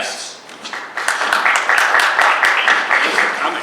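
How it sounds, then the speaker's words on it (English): An audience in a community arts talk breaks into a round of applause for guests, many hands clapping in a dense, steady patter that swells and holds, with voices mixed in underneath. "a round of applause for our guests"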